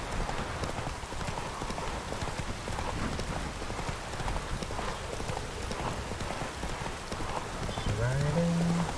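Steady clip-clop of horse hooves at a brisk riding pace in the video game The Witcher 3, close and continuous, with a dense rustling background and a short tonal sound near the end.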